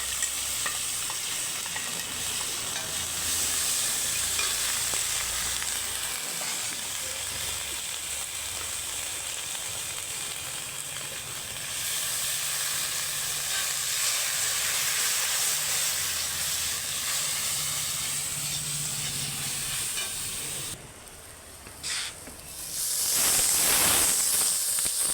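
Tomato, ginger paste and ground spices sizzle steadily in hot oil, a loud, continuous frying hiss that holds throughout, briefly dipping and then surging again near the end.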